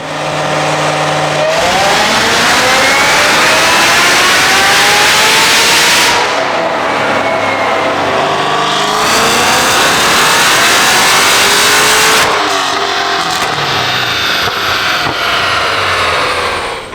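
A Cadillac CT5-V Blackwing with a stock supercharged engine and a 5-inch exhaust revs hard on a Dynojet dynamometer, a loud, sustained roar rising through several long pulls with brief drops between them, very close and overwhelming.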